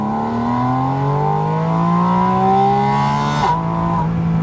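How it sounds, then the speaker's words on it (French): A Porsche Spyder RS accelerates hard, its engine intake and sport exhaust rising together in a loud, close, climbing howl with a quick gearshift blip near the end. No one speaks. "ce qui sonne encore plus, vous allez entendre, ce n'est pas uniquement l'échappement, c'est l'admission"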